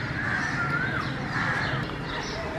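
Crows cawing at dawn in an outdoor residential setting, a few drawn-out caws standing out over a steady wash of background noise and other birds, moderately distant.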